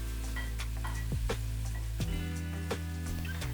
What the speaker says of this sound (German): Dann könnt ihr den Kreuzkümmel und die gehackte Zwiebeln hinzufügen und braten.